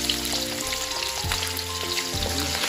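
Meat sizzles steadily in hot cooking oil for a Filipino Ilocos-style dish, a loud continuous crackle and hiss close to the pan with occasional stirring bumps.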